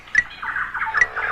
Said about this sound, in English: Just one of many amazing tropical birds.